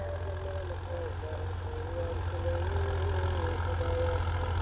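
A tractor engine runs steadily in a farm field during seed sowing, a constant low, throbbing idle-like drone with a faint rhythmic knock, close and fairly loud with no pause.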